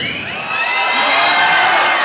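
A large crowd at a film pre-release event cheers, whoops and shouts loudly and continuously, the roar swelling and holding at full intensity.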